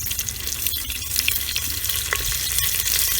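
Onion and curry leaves sizzle in hot oil in a clay pot over a village cooking fire, a bright crackling fry with scattered pops and the scrape of stirring, close and steady.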